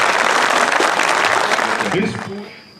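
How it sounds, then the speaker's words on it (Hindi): Loud crowd applause at a CRPF 148th Battalion day celebration, dense clapping that fades out near the end as a voice begins speaking. "एक बार जोरदार तालियां"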